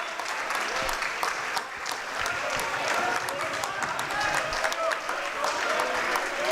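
A crowd applauds steadily at a volleyball match: dense, continuous clapping that fills the hall throughout, with faint voices mixed in.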